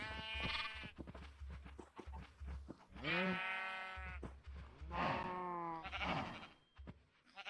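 Sheep in the video game Minecraft bleat about four times, each a loud, nasal, wavering cry spaced a second or two apart over a low steady game hum.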